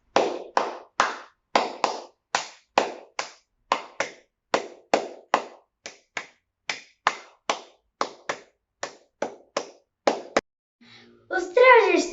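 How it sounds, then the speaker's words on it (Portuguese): Flamenco palmas ring out as sharp, rhythmic hand claps in a steady syncopated pattern, close and dry, followed at the end by a brief burst of voice. "E também, como não, as palmas."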